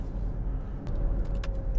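An electric Jaguar drives along with a low, steady road rumble and faint mechanical rattles, no engine roar, heard from inside the cabin.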